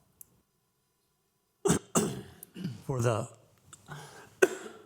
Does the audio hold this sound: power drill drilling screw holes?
no